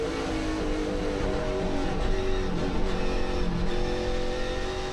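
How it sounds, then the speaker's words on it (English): NASCAR Canada Series stock cars roar through turns 8 and 9 at Canadian Tire Motorsport Park, their engines throttling and revving in a loud, sustained, layered drone as several cars pass close together. "Listen to the throttle work as they come from turn 8 up to turn 9"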